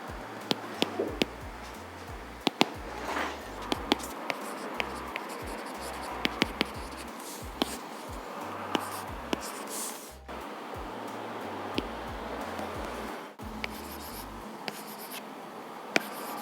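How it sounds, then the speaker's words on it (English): Apple Pencil on an iPad Mini with a paper-feel screen protector gives a steady, close scratchy hiss of writing strokes, broken by sharp little taps and short pauses, with no voices. "It makes the drawing and writing experience so much better, giving you that real paper feel."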